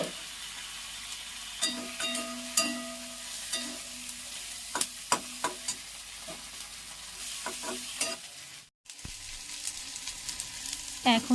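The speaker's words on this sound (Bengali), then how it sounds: "পেঁয়াজ আর টমাটো একটু ভেজে নিচ্ছি সরষের তেল দিয়ে দিয়েছিলাম" Onion and tomato frying in mustard oil, a steady sizzle with repeated clinks and scrapes of a spatula stirring the pan, one brief gap near the end.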